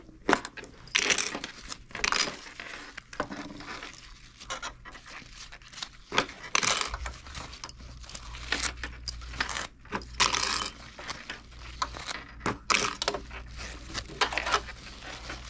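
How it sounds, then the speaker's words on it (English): Small metal clips or pins being pulled off a handmade tutu anklet, giving repeated light clinking and rattling with rustling of fabric and tulle, close and fairly busy throughout, without talk. "Take my little clips off."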